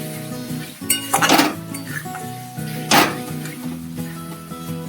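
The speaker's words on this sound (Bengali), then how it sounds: "ভালো করে কষিয়ে নিচ্ছি।" Egg curry masala being sautéed in a pan, with a couple of loud metal spoon scrapes and clinks against the pan over a low background hum, close and without talk.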